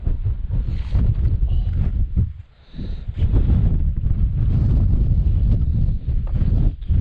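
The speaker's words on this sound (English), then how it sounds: "Bitter cold in that wind" Bitter cold wind buffets the microphone on an open hillside in Assynt, near Canisp, a steady loud roar with gusts that dip briefly before rising again.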